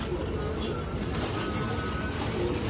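Pigeons coo in low, soft phrases at a bird market, close and steady over a busy background hum.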